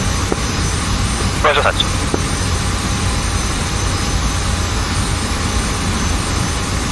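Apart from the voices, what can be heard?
jet aircraft taking off in DCS World video game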